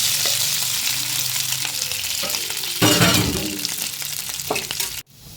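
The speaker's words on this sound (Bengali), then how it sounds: "সামান্য লবণ সামান্য হলুদ দিয়ে অনবরত নাড়তে থাকবো আলুগুলোকে একটু ভেঙে দেব" Mashed potato with a little salt and turmeric fried in mustard oil with chilli and cumin in a kadai, stirred constantly: loud continuous sizzling with scraping stir strokes, a stronger burst midway, cut off abruptly near the end.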